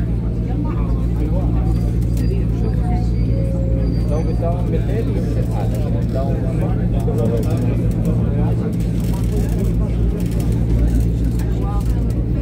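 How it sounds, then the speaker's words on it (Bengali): A bus drives along the road with a loud, constant engine rumble and road roar, and people talk over it throughout. "আমাদের বাসটা এখনো চলতেছে।"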